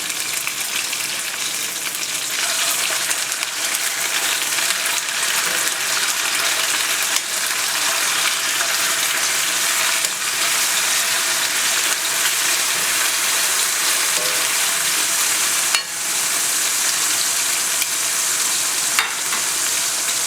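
Chicken breast frying in a pan, a loud continuous hiss and sizzle with occasional brief dips and crackles, close up and steady throughout, no talking.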